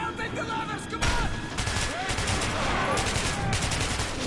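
Bursts of gunfire crack through a Metro 2033 Redux game as monsters are shot in the tunnels, rapid overlapping shots over a dense rumbling mix, with brief shouting voices between them.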